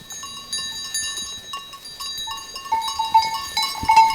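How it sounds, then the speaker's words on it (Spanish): A horned ram on a goat and sheep farm, heard among tinkling livestock bells and faint bleating in a steady outdoor clatter that builds toward the end. "Aquí tenemos el carnero"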